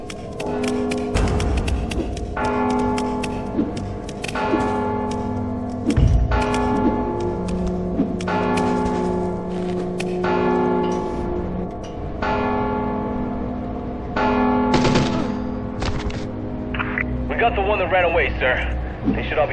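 Bell ringing in the stealth game Mark of the Ninja, repeated metallic bell strikes that keep sounding across the scene amid game music and effects, with voices talking over parts of it.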